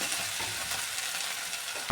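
Potatoes stirred and fried with spices such as coriander powder in a pan for an idiyappam potato stew, giving a steady close sizzle with scraping stir strokes and a louder clatter near the end, no talk.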